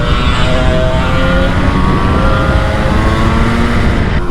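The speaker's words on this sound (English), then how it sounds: "you wind the throttle, there ain't really nothing, and then all of a sudden the power just comes in lovely" A 1981 Yamaha RD350 LC two-stroke motorcycle engine runs loud and close, a dense continuous buzz with a rising rev tone carried throughout.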